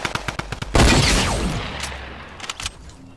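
Rifle gunfire in a battle royale video game: scattered single shots, then a heavy burst of overlapping rapid fire that slowly rings out, followed by a few more distant shots near the end, with no talking.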